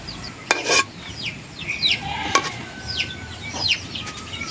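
Pork hock being sautéed in butter in a pan, with a soft steady sizzle broken by a few sharp clinks of a utensil against the pan, close and without talk.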